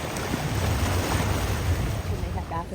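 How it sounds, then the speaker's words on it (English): Ocean surf rolls onto a beach in Hilo, Hawaii, with fairly big waves producing a steady, loud wash of broadband roar and some wind buffeting, no talk. "Those waves are actually pretty big."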